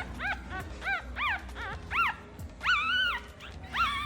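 Several high-pitched whimpers and squeaky yips from young puppies, in repeated short bursts with a couple of longer whines, close and fairly quiet.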